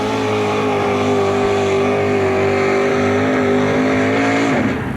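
A 4WD pulling truck's engine revs at a 1989 truck pull in Bowling Green, Ohio, roaring loud and sustained at high pitch before dropping off at the end.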